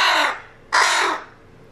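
A pet bird in a home lets out two loud, harsh caws close by, the first fading out and the second following after a short gap, with no talking.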